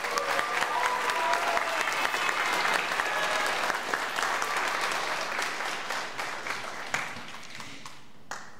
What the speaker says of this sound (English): Can we get just one more round of applause for Ms.